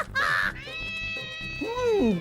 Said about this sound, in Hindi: महल में बिल्ली आ गई है, बिल्ली